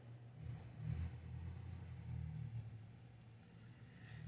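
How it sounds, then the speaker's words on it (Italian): A garbage truck compacting waste idles and churns nearby, a low steady engine rumble with a couple of gentle swells in effort, heard alone at a moderate distance. "sta facendo il compattamento dello sporco"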